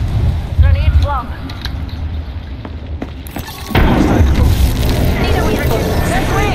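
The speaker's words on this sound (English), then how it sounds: "Flinging thermite. Grenade flung." A thermite grenade bursts in the Apex Legends battle royale game, a loud broadband blast that swells midway and holds as a sustained roar and crackle over continuous game noise.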